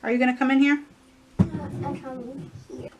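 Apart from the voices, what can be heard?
None of the usual background noises is heard.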